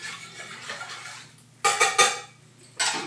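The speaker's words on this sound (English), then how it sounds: "Oh my gosh, my whisk just hit the floor." A metal kitchen whisk drops and clatters on the floor: a few sharp, bright metallic impacts close together, with one further clank shortly after, in a quiet kitchen.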